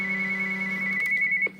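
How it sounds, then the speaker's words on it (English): NOAA weather radio ringtone, a steady electronic tone with a low hum that cuts off partway, followed by a short buzz, close and clear. "So if I go ahead and press the ringtone on the other one,"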